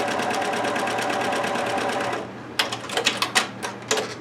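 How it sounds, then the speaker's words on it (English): A sewing machine runs steadily for about two seconds as it stitches fabric along a line on a paper piecing template, then breaks into short, uneven bursts of stitching with brief pauses between them. "I'm going to sew directly on that first solid line"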